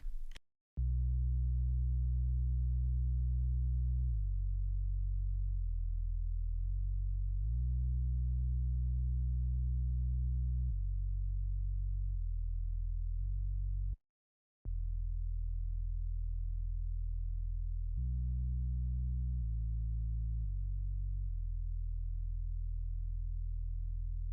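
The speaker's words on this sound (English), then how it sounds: "So I wanted the regular schmegular sub bass, which kind of sounds like this." Deep, clean sub-bass synth notes play a slow sequence of sustained pitches, with a brief silent gap partway through.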